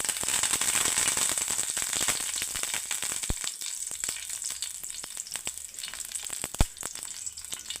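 Curry leaves fry in hot coconut oil in a pan, giving a loud, dense crackling sizzle with scattered sharp pops that eases slightly over time, close up and with no voices.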